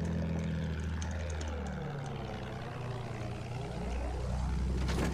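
A propeller warplane sweeps overhead in the World War I shooter Battlefield 1, a loud droning engine whose pitch rises and then falls as it passes by, holding steady and close for the full few seconds.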